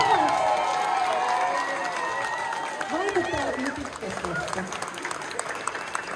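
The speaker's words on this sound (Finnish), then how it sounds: "Taputtakaa nyt vielä vähän." A concert crowd claps and cheers, a loud wash of applause that tapers, while a voice calls out and children's shouts rise over it near the end.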